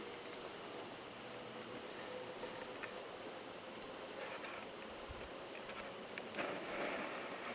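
Honey bees buzzing at a hive make a steady, soft, continuous hum of many insects close by, with no voices.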